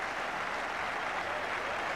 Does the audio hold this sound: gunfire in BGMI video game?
no